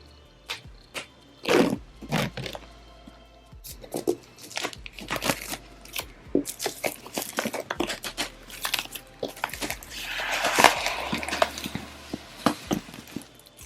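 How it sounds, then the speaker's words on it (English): An iPad Air box being opened, with crisp crinkles, tears and scrapes of cardboard and plastic packaging coming in irregular close bursts, some louder rustling near the end, with no talking. "So now it's time to open the iPad"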